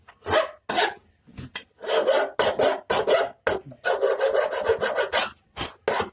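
Hand filing or rasping along the edges of a wooden loudspeaker back panel: a series of loud, close, rough scraping strokes in uneven bursts separated by short pauses, with no talking.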